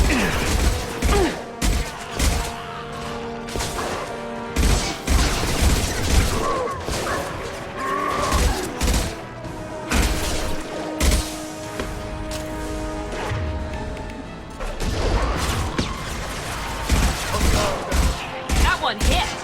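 Weapon fire in Mass Effect 2 rings out in sharp, rapid bursts and single cracks, loud and close, over a steady mechanical hum, with crashes and booms scattered throughout.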